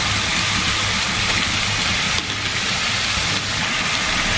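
Drumstick stems and lentils drop into fried spices in a pan and set off a loud, steady sizzle with a constant hiss throughout.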